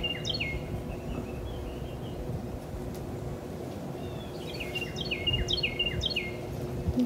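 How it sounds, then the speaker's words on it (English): Birds chirp outside on a farmhouse porch, sharp quick call phrases at the start and a livelier cluster near the end over a steady low background hum. "You can probably hear the birds chirping."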